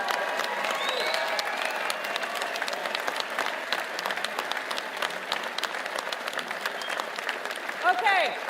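A CPAC conference crowd gives a standing ovation, with loud, sustained applause filling the hall at a steady level for the whole stretch.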